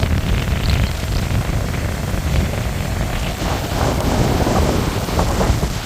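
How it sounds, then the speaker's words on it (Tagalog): Large sea waves breaking on a beach shore, a loud, continuous roaring wash heavily mixed with wind buffeting the microphone, no talk. "Grabe, lalaki ng alon mga kachong."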